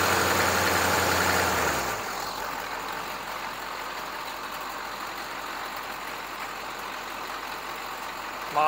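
A 6.2/6.5 diesel engine idles at about 650 to 700 RPM, a steady loud rumble that settles down after a louder, higher-revving opening and carries on evenly with no talk.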